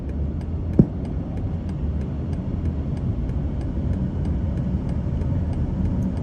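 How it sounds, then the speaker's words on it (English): Steady low road rumble of heavy dump and aggregate mining trucks passing on a road, continuous broadband traffic noise with one brief sharp knock near the start, no talking. "there's an enormous amount of truck traffic here, both dump related and aggregate mining related"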